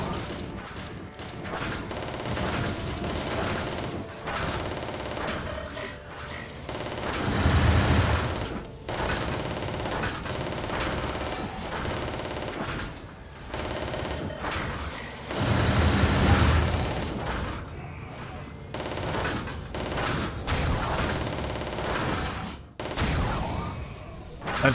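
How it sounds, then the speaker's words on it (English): Thermal cannon fire from a war machine in the Warhammer 40,000: Freeblade video game: a run of heavy, booming blasts and rumbling bursts, loudest at two swelling roars partway through, with no break in the barrage. "That thermal cannon is powerful."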